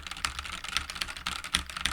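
Quick, irregular clacking of computer keyboard keys, close and alone, with sharper strikes standing out among softer taps.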